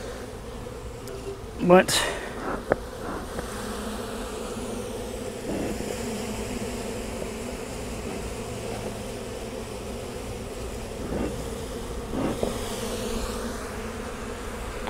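Honey bees buzz around an open hive during a check for hive beetles, a continuous close drone with a few sharp knocks and clatters, and a voice briefly speaks near the start.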